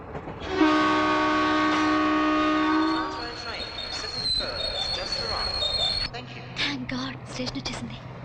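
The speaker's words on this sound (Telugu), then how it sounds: "ట్రైన్ మళ్ళీ బయలుదేరుతుందండి." A train at a railway station sounds a loud, sustained horn as it pulls away, followed by rumbling movement and clatter, with people speaking over the noise.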